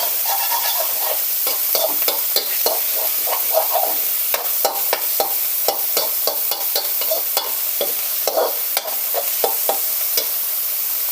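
Continuous sizzling with rapid, irregular scraping and clacking of a spatula stirring minced pork and vegetable fern in a hot, sticking wok, close and steady, no voices.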